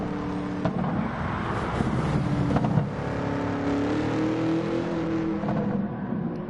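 Dodge Viper engine in Gran Turismo, a loud, steady drone with sustained revving and a brief surge midway, no talk over it.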